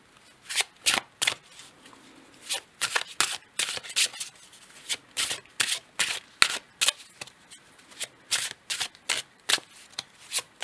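Tarot cards shuffled for a card reading, giving a rapid series of sharp, close riffling bursts in irregular rhythm that come one after another over quiet background, with no talking.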